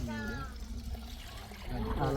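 Water poured from a bucket, splashing and gurgling steadily for a couple of seconds, close by, with faint voices underneath.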